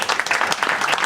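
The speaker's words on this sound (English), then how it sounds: "Clap it up. Clap it up." Audience clapping for a musician at a live performance: a dense, steady patter of many hands that fills the whole moment at close range, with no talking over it.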